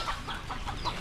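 Chickens clucking on a dirt yard at a Filipino home, a few short, separate clucks standing out over steady outdoor background noise.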